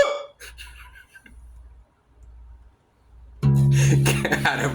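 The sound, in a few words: hiccup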